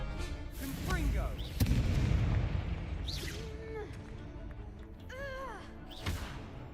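Fiery Confringo spell blasts in Hogwarts Legacy, a few sharp booming bursts scattered among voices talking over the game.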